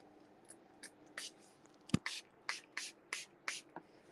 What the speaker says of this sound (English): but I'll spray anyway.